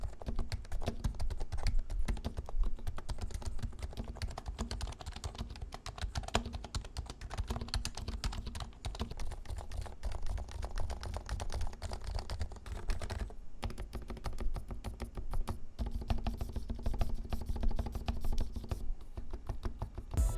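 Continuous rapid typing on a mechanical keyboard with O-rings and switches lubed with 205 grade 0, producing soft, muted, even clacks at close range for about twenty seconds.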